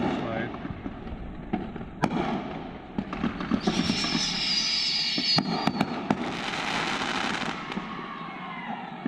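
Fireworks exploding outdoors: a steady crackle of bursts and booms throughout, with sharp loud pops and a dense hissing, fizzing shower in the middle, and voices faintly in the background.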